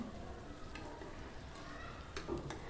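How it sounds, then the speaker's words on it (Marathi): Tomatoes sautéing in a pan give off a soft, low sizzle, with faint stirring clinks and scrapes near the end. "टोमॅटो जे आहे ते एकदम सॉफ्ट होण्यासाठी आपण छान असं परतून घेऊयात"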